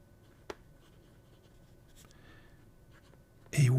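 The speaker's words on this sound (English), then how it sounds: "The next one is this Mahjong A1, but this time with Bobby's nib" A Mahjong A1 fountain pen with a medium nib writes on paper, making a faint, soft scratching with a sharp tap early on, then a louder burst of handling noise at the end.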